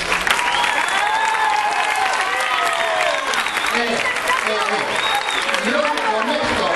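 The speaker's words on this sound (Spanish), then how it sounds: "hay que despedirles con un aplauso" At a school La Rioja Day event, an audience sends off the sixth-grade pupils with loud, sustained applause, many hands clapping densely while children's voices and shouts ring out above it.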